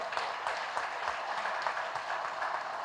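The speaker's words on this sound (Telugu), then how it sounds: "గట్టిగా చప్పట్లు కొడతాం నందప్రసాద్ గారికి గట్టిగా" An audience at a gathering in Vijayawada claps steadily, a dense crowd of many hands heard at moderate distance without pauses.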